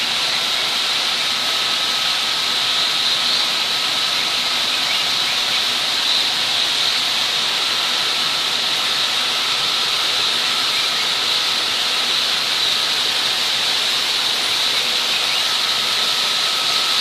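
Waterfall in a zoo's indoor tropics exhibit, a steady broadband rushing hiss of falling water that stays constant and fairly loud throughout, with no voices.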